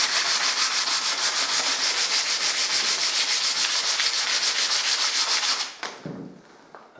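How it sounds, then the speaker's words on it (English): Hand sanding of a wood knot with P180 sandpaper, a steady rhythmic back-and-forth rasp of quick close strokes for several seconds, stopping near the end with a faint rustle. "With a nice piece of sandpaper. This is P180."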